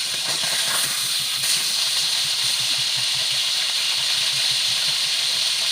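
Steady loud sizzling hiss of pork frying in a pan, continuous and close, with faint crackles underneath and no talking.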